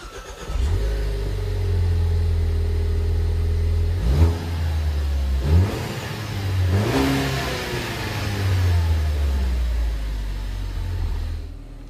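A car on its factory stock exhaust idles, then revs through several blips, each rising and falling in pitch, with a deep, fairly mild engine note heard close and loud, with no talk.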